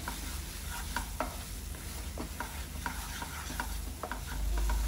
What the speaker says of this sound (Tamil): எல்லாம் போட்டு நல்லா மிக்ஸ் பண்ணிடலாம்.